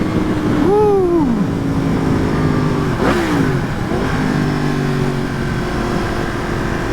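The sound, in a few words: Yamaha FZ-10 motorcycle engine accelerating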